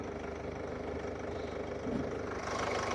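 A Chevrolet Cruze automatic holds a steady idle, a continuous low engine hum with an even rumble that swells slightly toward the end, no voices over it.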